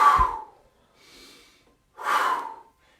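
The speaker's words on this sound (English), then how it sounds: "you should be able to hear yourself blowing out through the mouth" Breathing exercise with forceful breaths blown out through the mouth: two loud airy exhalations separated by a softer intake, close and alone.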